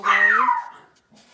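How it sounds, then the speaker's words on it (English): A dog lets out one loud, close bark that trails off into a whine, followed by a faint short yip, with a person speaking briefly. "I apologize for the barking dog"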